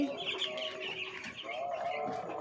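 Farm chickens clucking softly and chirping while eating freshly given feed, a close, steady mix of bird calls at low volume.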